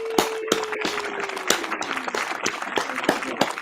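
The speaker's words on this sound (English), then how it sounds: "Round of applause," An audience applauds Miss Tiffany at a live podcast taping, sharp sustained clapping with scattered louder claps, a faint tone gliding underneath.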